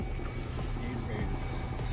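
A small motorboat engine drones steadily and close by, a low rumbling hum carrying on without pause while cruising on Woodrum Lake in the morning.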